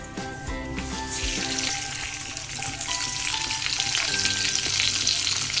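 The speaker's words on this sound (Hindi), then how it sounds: "राई को अच्छा फूटने देंगे हम" Dense crackling and popping of mustard seeds spluttering in hot oil with urad dal for a chutney tempering, steady and close throughout, with a few faint clinks of utensils.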